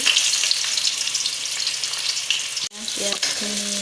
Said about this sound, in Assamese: পিঁয়াজ দি দিছোঁ।